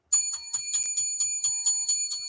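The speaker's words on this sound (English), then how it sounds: "He's going over, rings the bell." A wrestling ring bell rung repeatedly at a televised WWE SmackDown event, about ten bright metallic clangs in a quick steady rhythm, loud and clear with no talk over them.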